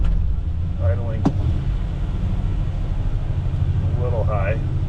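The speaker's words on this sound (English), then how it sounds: "I think this is still idling" A 1979 GMC Vandura engine with a new Edelbrock carburetor idles in a steady, close, loud low rumble, running a little high, with a brief click and a faint voice now and then.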